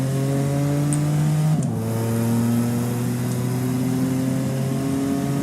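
A simulated car engine drones steadily in the Automation car tycoon game, holding a constant pitch with a brief shift like a gear change partway through, loud and continuous.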